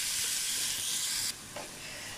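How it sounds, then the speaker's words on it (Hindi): Loud, steady sizzling and hissing from a pan frying ingredients for beef dry chilli. The sound is close and continuous, briefly drops in intensity partway through, and no voice is heard. "इसको थोड़ा सा फ्राई करेंगे"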